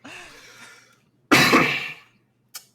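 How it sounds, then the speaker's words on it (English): A person coughs in a room: a rough, fading cough, then a louder harsh burst, then one short final cough, close and without talk. "Why am I coughing all of a sudden?"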